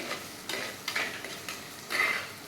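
Onions and garlic sautéing in a pan with salt for a curry-leaf kuzhambu, heard as soft, quiet bursts of stirring and light sizzle at irregular intervals, with no talking.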